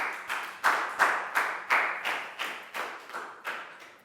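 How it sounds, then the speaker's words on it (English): Eight or nine distinct, evenly spaced hand claps from a small group of pupils in a Year 4 classroom, applauding a classmate, fairly close and unaccompanied by talk. "Big round of applause for Pat."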